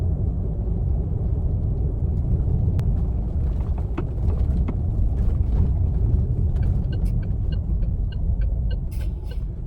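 An unloaded Farizon H9E 4.5-tonne fully electric truck pulls away and accelerates, heard from inside the cab as a steady low road rumble with a few light ticks and clicks toward the end.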